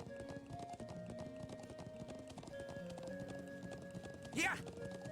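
Horse hooves clip-clop steadily in the video game Trails of Cold Steel, a close and even rhythm under background game music, with a short whinny-like cry rising near the end.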